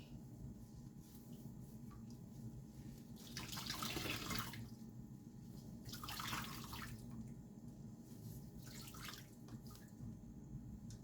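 Water splashes and drips as dyed yarn is wrung out by hand, with three short bursts of trickling liquid over a low steady background, fairly faint and close.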